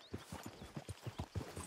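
Horse hooves clip-clop at a steady walking rhythm as a rider heads into town in the video game Red Dead Redemption 2, the near, regular footfalls repeating alone with no talk.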